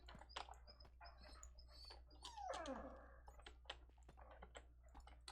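A dog whimpers and whines in soft, rising and falling cries, one longer sliding whine in the middle amid scattered small clicks and shuffles, close and fairly quiet over a low steady hum.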